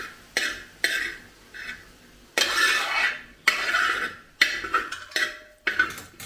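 A spoon stirs and mixes egg masala rice in a pan, giving repeated bursts of scraping and clinking at an uneven rhythm, close and clear, with no talk.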